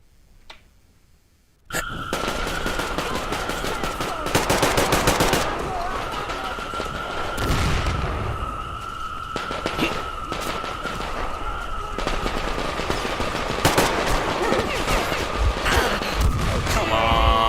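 Gunfire from the video game Metro: Exodus bursts in dense, rapid clatters over a steady game soundtrack and a sustained tone, loud and continuous after a quiet start, with a voice talking underneath.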